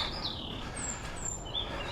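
Birds chirp in Buckinghamshire woodland on a warm day, with faint high tweets and short calls over a soft rustling outdoor background at moderate distance.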